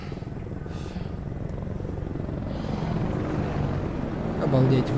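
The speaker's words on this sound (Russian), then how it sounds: "Вертолеты летят." Military helicopters flying in the combat flight game Ace Combat: Assault Horizon, a steady low rotor and engine rumble that swells toward the end, with game voices and radio chatter mixed over it.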